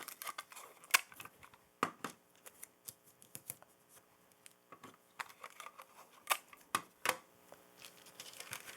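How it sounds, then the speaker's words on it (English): Tape pulled and pressed onto a foam printing plate, a series of quiet crinkling rips and sharp little snaps spread irregularly, close and faint. "So let's put a bit of tape on it."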